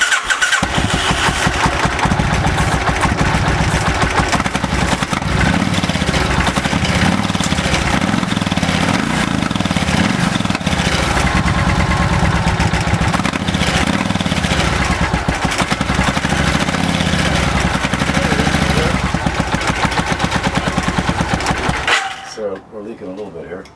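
An old engine that sat 22 years in a grandpa's shed runs loud and close after being fired up, a rough, fast, lawn-mower-like chugging that sustains for about twenty seconds before cutting out near the end.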